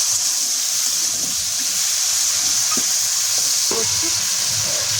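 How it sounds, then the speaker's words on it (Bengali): Mixed vegetables with onion, chilli, five-spice and salt stir-fried in a pan until crisp, giving a loud, continuous close sizzle with a few faint utensil scrapes and no talking. "ভাজা ভাজা করে নেব।"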